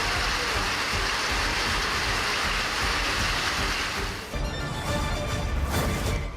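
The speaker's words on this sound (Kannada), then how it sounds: "ಬಹುತೇಕ ಕಡೆ ಆಲಿಕಲ್ಲು ಸಹಿತ ಮಳೆ ಸುರಿದಿದೆ." Morning rain with hailstones pours down across villages such as Dandigehalli, a dense and loud unbroken hiss of drops striking surfaces, with a short dip and change in texture late in the stretch.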